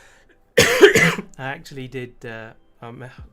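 A person coughs and clears their throat in a short harsh burst close to the microphone, then speaks briefly.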